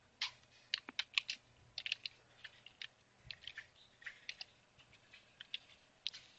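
Keyboard typing of commands on a computer while working in a terminal on Ubuntu, a string of quick, light clicking keystrokes in short irregular bursts, fairly close and moderately quiet with no talking.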